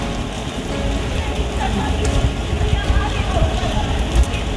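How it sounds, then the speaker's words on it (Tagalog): Rain falls steadily in a dense, continuous hiss with scattered patter, fairly loud and close, while a person talks over it. "Muulan-ulan pa."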